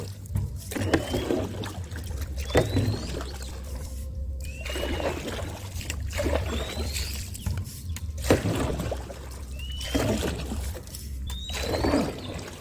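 Paddling a DIY rowing boat on a canal: rhythmic paddle strokes splash and drip about every two seconds, close by, over a low steady hum, with birdsong chirping in the background.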